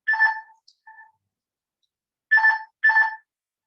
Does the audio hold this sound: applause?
no